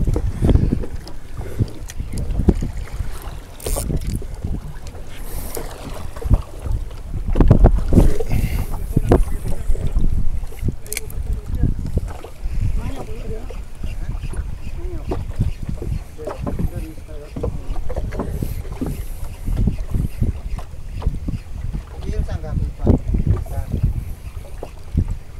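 A canoe out on the sea during a fishing trip, with steady wind and water noise around the boat and people talking throughout.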